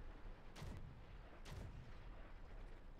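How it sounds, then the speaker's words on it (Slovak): Two heavy tank cannon shots in a physics-testing video game, a pair of booming blasts about a second apart over a low background rumble. "No, prečo do mňa strieľaš?"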